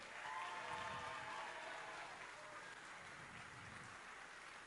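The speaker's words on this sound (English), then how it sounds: "Let's give rookie team, University of Maine, a big round of applause." A crowd applauds steadily at a university robotics mining competition, a dense, even patter of clapping that holds at a constant level throughout, sounding somewhat distant.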